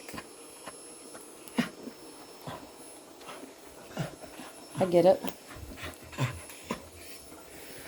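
A dog pants and whimpers anxiously in short bursts, close by, while a person speaks softly over it.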